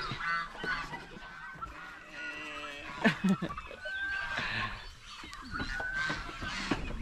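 Ducks and turkeys honk, quack and gobble close by in a noisy yard, with scattered squawks over a faint outdoor background.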